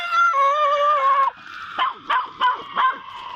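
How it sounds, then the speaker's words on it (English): A dog gives a drawn-out, whining howl, then four sharp, close barks in quick succession. "That damn dog"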